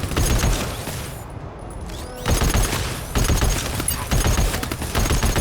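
Video game gunfire in a GTFO mod (ReturnToBase), with sniper rifle and shotgun in play: dense bursts of rapid shots in loud clusters, a short lull, then more sustained volleys.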